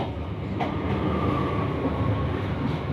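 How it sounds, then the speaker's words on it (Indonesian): The Ciremai passenger train from Bandung to Semarang Tawang rumbles past Jatibarang station at night, a steady close roar of wheels and carriages with faint clicks, and no voices. "Oh, ini kereta api Ciremai dari stasiun"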